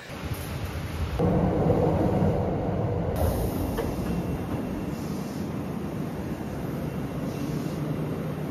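A train rumbles loudly and steadily at Yotsugi Station in Japan, its heavy low roar swelling after the first second and continuing without voices.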